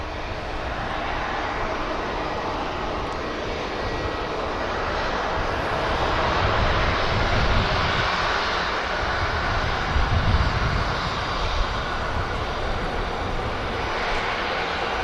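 Airliner bound for Egypt taking off from Manchester Airport: a loud, sustained jet roar that swells in the middle and rumbles on steadily, heard alone without voices.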